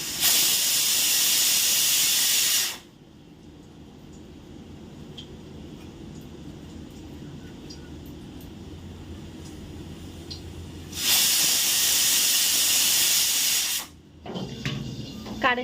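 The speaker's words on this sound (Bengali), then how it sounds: "মাছ ভাজছি এদিকে পাবদা মাছটা" Pabda fish frying in a pan, a loud broad hiss that fills the first few seconds, drops to a low steady sizzle, then flares loud again before settling.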